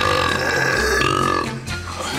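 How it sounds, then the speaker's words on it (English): A very loud, long human burp, record-breaking in volume, rumbling continuously for about two seconds with a deep resonant croak, close and dominant. "he holds the world record for the loudest burp"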